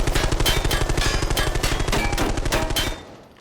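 Automatic rifle fire from the game Arena Breakout Infinite: a loud, close, rapid stream of evenly spaced shots that goes on for about three seconds, then stops and leaves a short fading tail.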